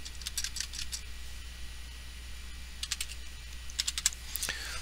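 Keystrokes on a computer keyboard while entering values into a graph's data table, two short clusters of quick light taps separated by a pause, close and fairly quiet over a steady background hum.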